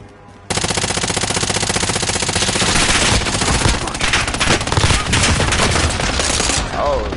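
Sustained automatic gunfire rattles loud and close in Call of Duty Warzone, a dense burst lasting several seconds.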